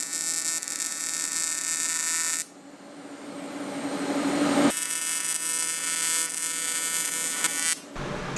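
Steady electric buzzing of a welder joining two small metal oil return fittings for a twin turbo LSX Mustang, loud and continuous with two brief pauses between bursts, no talk.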